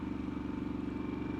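A 2022 Harley-Davidson Sportster S with a TBR exhaust holds steady at about 3,000 RPM, a continuous low pulsing engine drone with even, throbbing rhythm, close and alone.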